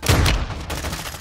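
Gunfire in the Call of Duty Warzone 2.0 video game, a loud, dense burst of shots packed into about a second, with the sharpest cracks at the start and a slightly softer continuing volley after.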